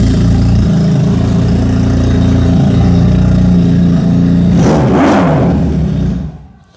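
A Ducati replica 400cc dual-cylinder motorcycle engine runs loud and close with a steady low throb, rises in a brief rev near the end, then cuts off.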